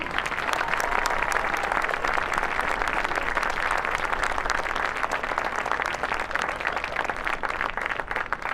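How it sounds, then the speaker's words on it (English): Crowd applause at a high school varsity football game, Yonkers Brave at Mamaroneck, a dense steady roar of many hands clapping that fills the whole stretch at even loudness. "One more round of applause."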